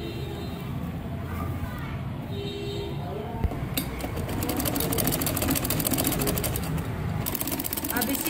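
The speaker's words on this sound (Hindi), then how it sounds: "अब इसी तरह मैं दूसरी तरफ इसको सिलाई लगाती जाऊंगी।" Sewing machine running steadily while stitching lace onto a neck design on a garment, a continuous close mechanical whir that grows slightly busier halfway through, with a voice talking over it.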